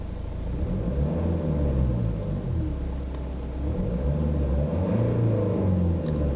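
A 2012 Jaguar XF engine revs up to about 3,500 RPM and holds a steady, loud low rumble, the pitch rising and falling slightly as the throttle is worked.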